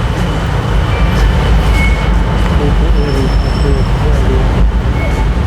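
Steady rumbling of a BTS Skytrain in motion in Bangkok, with faint wheel squeals and a constant low roar throughout.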